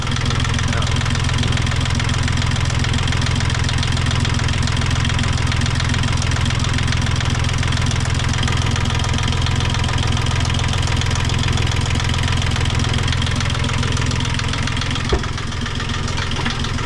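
A troublesome boat engine, recently realigned, runs steadily at idle with a rough, knocking undertone, loud and continuous throughout, with a brief dip near the end.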